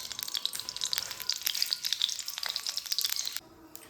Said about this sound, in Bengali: দিয়ে দিচ্ছি 1 চামচের মতন সরষের তেল, তার সাথে দিয়ে দিচ্ছি একটা শুকনো লঙ্কা